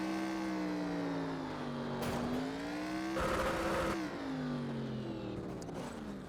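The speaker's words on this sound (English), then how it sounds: "And Kale does his burnouts" A 1987 NASCAR Legends stock car in the iRacing game does a burnout at South Boston. The engine drones with wavering pitch, and two harsher bursts of tire noise and revving break through the steady hum.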